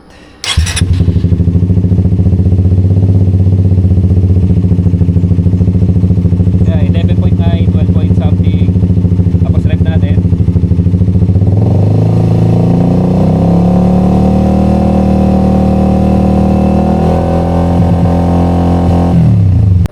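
A Suzuki GSX 150 motorcycle engine runs loud and close, holding a steady idle and then revving up partway through to a higher, sustained pitch before easing back, with no talking over it.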